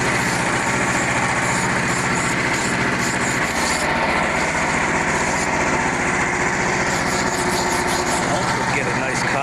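A small gasoline engine drives a heavily modified homeowner sawmill cutting maple into 2x6s. It runs loud and close, a steady buzzing drone with a rhythmic pulse and some clatter, with no talk throughout.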